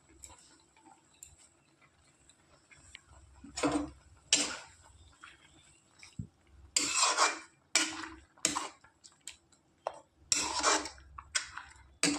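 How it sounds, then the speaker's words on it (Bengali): Chopped jute leaves go into a cooking pot already holding slit green chillies, for a jute-leaf curry with jackfruit seeds; close, intermittent bursts of clattering and scraping against the pot come in irregular clusters between quieter stretches, with no talking. "এবার দিয়ে দেবো কুচনো পাট শাক।"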